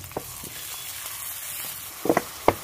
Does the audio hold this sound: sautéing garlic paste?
yes